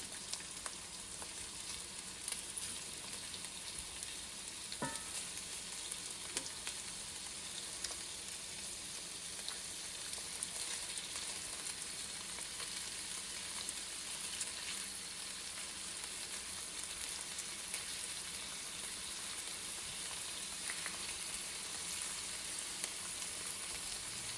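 Meatballs fry in a pan over medium heat for a pesto pasta dish, a steady dense sizzle and crackle running the whole time with a few soft stirring knocks and no talk.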